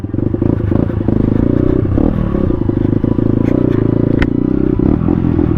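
A scooter labours up a rain-damaged uphill backroad in Porac, Pampanga. Its engine drones steadily and close, with rattles and scraping clatter from the rough surface throughout.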